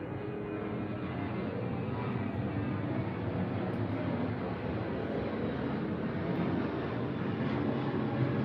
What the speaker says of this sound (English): A lot of planes today.